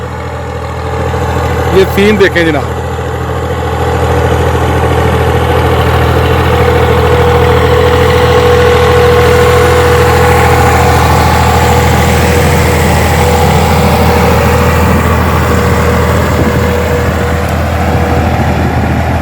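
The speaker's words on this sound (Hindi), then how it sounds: "तो देखा जी ट्रैक्टर आ रहा है" Tractor engine running steadily in a paddy field in rural Gujranwala, a loud continuous low rumble with a drawn-out tonal whine, while someone speaks briefly over it near the start.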